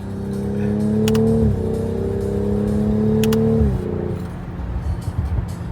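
BMW B58 inline-six revving hard on a track drive, its pitch climbing through two long pulls with a brief dip at each gear change, then easing off into rougher road and wind noise; no voices.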